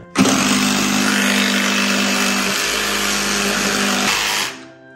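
A power tool cuts along a marked line while building a bathroom cabinet, making a loud, steady high-pitched whine that holds for about four seconds and then winds down.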